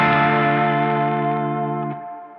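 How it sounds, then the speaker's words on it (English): Electric guitar played through an Anasound Element reverb pedal, a single sustained chord ringing out with a lush reverberant tail that slowly decays, loud and alone with no talking. "Let's add some reverb. This is the Anasound Element reverb."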